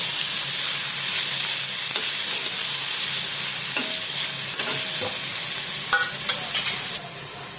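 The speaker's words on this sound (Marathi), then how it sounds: "पनीर आता तांबूस रंगावर आपण भाजून घेतलेलं आहे" Paneer frying in ghee gives a steady, loud sizzling, a continuous crackle with occasional sharper pops and stirring scrapes, no talking.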